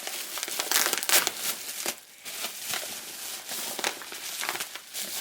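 Gift wrapping paper is torn and crumpled open at close range, with bursts of crinkling and ripping separated by short pauses, loud in spots and otherwise a busy rustle.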